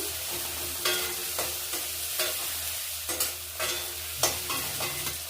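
Chopped tomato sizzles steadily as it fries in a pan while a utensil scrapes and stirs in several short strokes.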